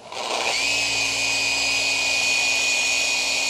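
A machine polisher runs steadily on black BMW paint at speed setting 2, a loud continuous whine with a high steady tone that rises as it spins up in the first half-second, then holds unchanged with no talk over it.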